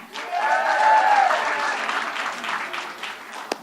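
A large indoor audience at a YMCA event applauds Governor Cuomo, a steady roar of clapping that swells early then gradually thins, with a sharp single clap near the end.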